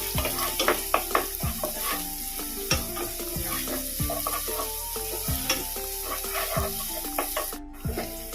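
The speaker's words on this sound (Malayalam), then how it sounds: "ഉള്ളി ഒന്ന് കാച്ചിയിടും" Onions frying in a pan for chicken curry give a constant sizzle, punctuated by repeated sharp scraping and clanking strokes of a spoon stirring against the metal, close and fairly loud with no voices.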